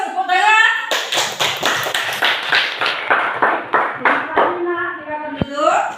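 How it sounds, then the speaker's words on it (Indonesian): A classroom of children claps in a rhythmic pattern of about a dozen sharp, evenly spaced beats, close and loud. A teacher's voice is heard briefly before and after. "bagus, tepuk tangan"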